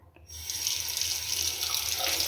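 Steady rush of water pouring from a bathroom sink tap, starting abruptly after a brief silence and running continuously, close and fairly loud.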